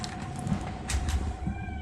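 A cat meows in a home office, a short, faint call heard over a steady electronic hum from the room.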